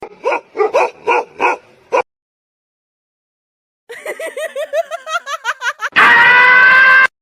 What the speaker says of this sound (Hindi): अगले पल सारे कुत्ते उस पर टूट पड़े।